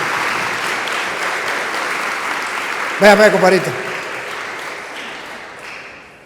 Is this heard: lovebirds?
no